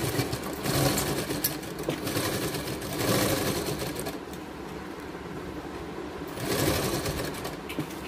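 A sewing machine stitches a rounded neckline on a baby gown, its needle chattering in a fast, even rhythm up close, running in three bursts with brief slowdowns between them.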